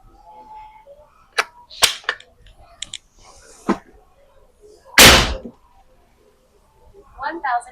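A single sharp, loud shot from a Ruger air rifle cracks out among quieter clicks and handling noises, with brief speech at the end.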